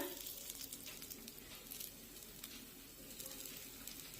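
Oil sizzles steadily on carrot appe cooking in an appe pan over very low heat, a faint, continuous crackle with soft patters and no talking.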